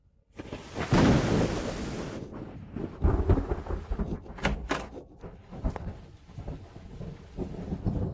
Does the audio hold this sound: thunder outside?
yes